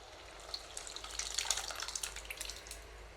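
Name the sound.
pouring cooked sambar into the pot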